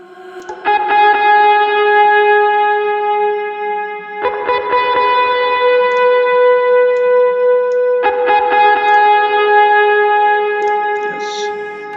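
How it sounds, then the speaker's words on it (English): Electric guitar repeating the same chords in a rhythmic pattern through a stereo shaper effect, with sustained bright harmonics, strongly processed and loud, the pattern restarting in three phrases with no voices. "another pattern of the same electric guitar and playing the same chords or notes"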